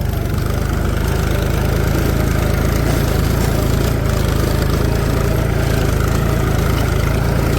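A tractor engine runs steadily nearby on a farm, a loud, continuous diesel chug with a constant low rumble and no pauses.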